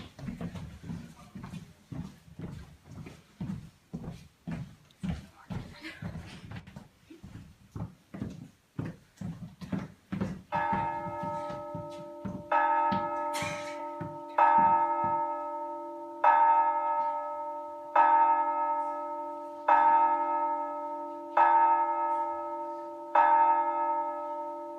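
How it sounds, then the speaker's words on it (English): A large clock chimes twelve times: hooves clop and a rapid knocking fill the first part, then deep, ringing bell strokes sound in a slow, steady rhythm, each tone lingering and decaying before the next. "As the large clock rang 12 times"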